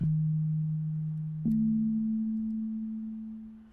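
A pure sine wave tone from the Output REV synthesizer plays two sustained low notes in succession, clean and steady, slowly fading out.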